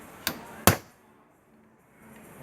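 Two sharp metallic hammer blows close by, the second louder, as a bearing is driven into a fan coil unit motor during an air conditioner repair, followed by quiet room noise.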